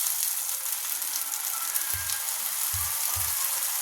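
Tomato paste sizzles in oil in a frying pan while Bengali rui fish curry is being cooked: a steady, fine hiss fills the whole clip, with a few soft, low knocks from the pan near the end.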